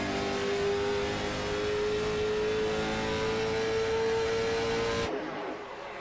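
Race cars run on the New Hampshire track in a racing video game, a loud continuous engine drone with a steady held tone as the field streams past, dropping away near the end.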